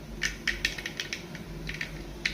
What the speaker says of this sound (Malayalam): കടുക് പൊട്ടിക്കൊണ്ടിരിക്കുന്നു.